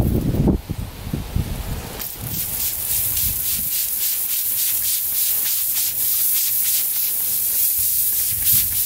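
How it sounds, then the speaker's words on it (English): A spray bottle spritzes a smoked brisket on a barrel house cooker, giving a rapid series of soft, close hissing squirts in a steady rhythm over faint background rumble. "We're gonna go ahead and spritz it."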